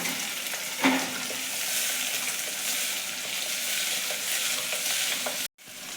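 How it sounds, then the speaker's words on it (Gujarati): Steady oil sizzle of garlic and cabbage sautéing in a pan, with a brief clink near the start and a short dropout near the end. "હવે આ બધી જ વસ્તુને આપણે એક મિનિટ માટે તેલ જોડે સતળાવા દઈશું"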